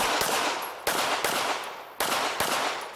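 Pistol shots ring out at an IDPA shooting match at Mecklenburg Wildlife Club in July 2019. There are five loud, close reports in pairs and singles, and each one leaves a long reverberant tail.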